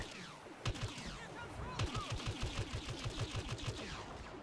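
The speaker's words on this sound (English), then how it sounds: "Airstrike incoming." Rapid blaster fire and sharp explosive bursts from a Star Wars Battlefront battle on a snowy field during an airstrike, dense rhythmic volleys repeating steadily with no voices over them.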